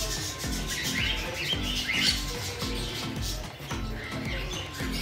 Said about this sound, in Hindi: आप देख सकते हैं कई प्रकार के पक्षी यहाँ पे अवेलेबल है